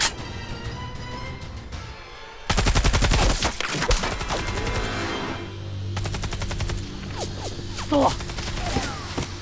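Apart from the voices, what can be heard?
gunfire with rubber bullets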